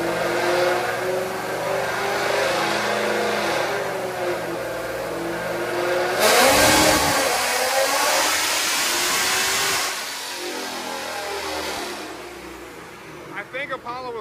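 A supercharged car engine roars and revs hard as it accelerates with wheelspin, with a rising high-pitched whine, loud and close, then settles back down.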